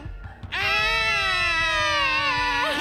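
A person on a game show imitates the high-pitched scream of a sloth: one loud, sustained, whistle-like shriek that starts after a short pause and holds steady to the end.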